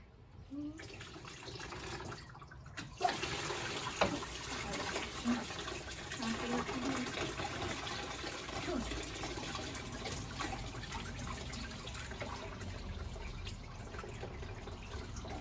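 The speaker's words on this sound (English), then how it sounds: "First we're going to drain the flushed coolant out and see how gross it is." Flushed coolant drains out of an Audi radiator as a steady stream of splashing, gushing liquid, continuous and fairly close, with a low background rumble throughout.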